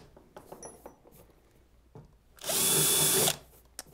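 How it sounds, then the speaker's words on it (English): A power drill whirs steadily for about a second while boring a hole for landing gear on a Coosa FD model aircraft, preceded by faint handling clicks and quiet room noise. "get the drill bit back into that hole and drill down"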